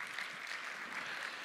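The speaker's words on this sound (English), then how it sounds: "A big round of applause for our panel" Conference audience applauding a panel, a soft, even, continuous patter of many hands clapping at a distance, with no distinct individual claps.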